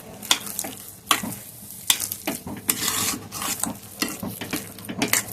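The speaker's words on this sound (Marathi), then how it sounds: "चवीपुरतं मीठ मिक्स करून घेऊया" A spatula stirs salt into potato vada pav filling in a pan, with repeated rhythmic scraping strokes over a low sizzle, close and clear with no talking.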